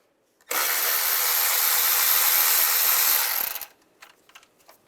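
A 10mm socket on a power driver spins a nut off the cylinder deactivation manifold area of a 2007-2013 Chevrolet Silverado 1500, a steady, loud, close whirring burst of about three seconds that stops abruptly, followed by faint clicks.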